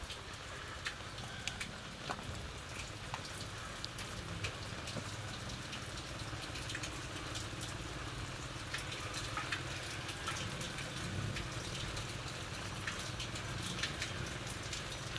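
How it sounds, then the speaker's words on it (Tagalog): Faint, steady patter of rain, a soft continuous hiss with scattered drips and no voices. "Iyan naman tong ulang ito. Wala nang sawa ang ulan."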